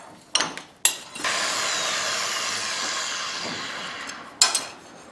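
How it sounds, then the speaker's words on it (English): A power grinder works the handle of a forged butcher knife, with short abrasive bursts, then a loud, steady hiss of grinding for about three seconds before it cuts off, and another brief burst at the end. "We'll turn it this way and grind a little bit of that back"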